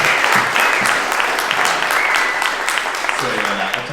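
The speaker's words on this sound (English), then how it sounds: "can we give a round of applause to CoinFund for putting this event together?" An audience at a blockchain showcase event in New York City breaks into a loud, sustained round of applause, dense clapping filling the room, with a voice briefly over it.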